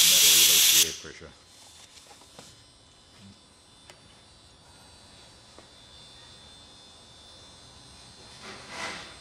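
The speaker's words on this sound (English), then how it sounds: "To deflate the shaft, just push the valve in and that'll release the air pressure." Air pressure bursting out of an inflated air shaft valve on a logger rewinding machine: a loud, sharp hiss for under a second, then quiet machine-room ambience with faint clicks.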